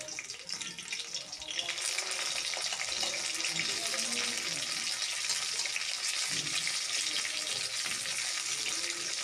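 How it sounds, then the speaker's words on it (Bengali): Katla fish pieces frying in oil in a pan, a steady loud hiss and crackle that fills the whole stretch without pause. "মাছগুলো অনেকটাই লাল লাল হয়ে এসেছে, ভাজা প্রায় অনেকটাই হয়ে এসেছে"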